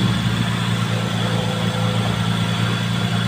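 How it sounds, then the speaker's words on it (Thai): A used car's engine idles smoothly and steadily, a constant low hum and rumble at close range that stays even throughout with no voices. "เครื่องยนต์เดินเรียบเลยครับ"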